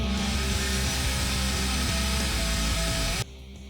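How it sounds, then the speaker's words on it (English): A power drill fitted with a center bit bores into a steel Bowie knife blade, whining steadily and loudly for about three seconds before cutting off abruptly. "Finally using a center bit for something that it's made for."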